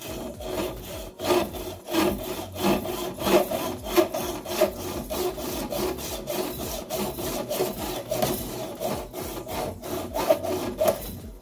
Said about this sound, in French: je vais essayer à la scie, voir ce que ça donne